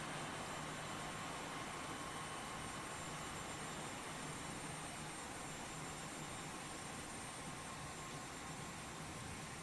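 Simulated Boeing 737 jet engines in X-Plane 12 run on the IXEG 737 parked at a gate with a jetway, giving a steady, unbroken roar and whine throughout with no talking.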